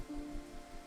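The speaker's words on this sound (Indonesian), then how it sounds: "Aku gak tahu ini suara hujannya ganggu gak sih?" Rain falling at night, a steady soft patter of drops on a surface, close and even, heard alone with a faint low hum.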